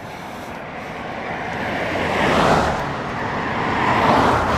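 Cars speeding past on a busy highway with potholes, a steady broad roar that swells twice as vehicles go by, heard from the roadside with no talk.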